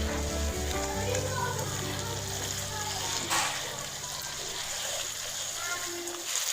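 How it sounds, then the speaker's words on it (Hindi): Meat with onion-tomato masala frying in a pot for bhindi gosht, a dense, continuous sizzle and spatter close by, with a tonal hum underneath that fades toward the end. "और इसको भी खूब अच्छे से भून लेंगे 2 से 4 मिनट के लिए"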